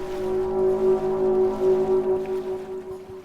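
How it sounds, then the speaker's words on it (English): A ship's whistle gives a single loud, prolonged blast in fog on a river, a steady deep horn tone that holds unbroken for several seconds. "A single prolonged blast indicating that it was still traveling, but this blast was loud, much louder than it should have been."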